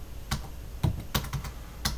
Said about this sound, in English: we have to type in our IP address